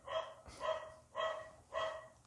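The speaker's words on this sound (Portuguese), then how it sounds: "latindo." A single dog barks four times in an even, spaced rhythm, each bark clear and moderately close with nothing else competing.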